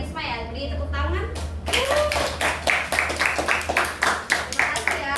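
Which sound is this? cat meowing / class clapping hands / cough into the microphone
class clapping hands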